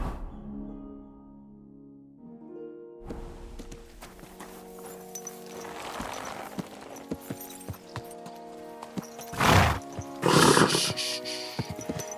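A horse in the Kingdom Come: Deliverance II video game, with hooves clopping on the ground under background music, followed by two loud, close neighs near the end.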